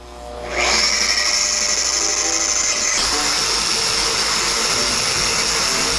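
A power polisher buffs car paint at about speed 4 or 5 under medium pressure. It spins up within the first second into a loud, steady, close whine that continues without pause.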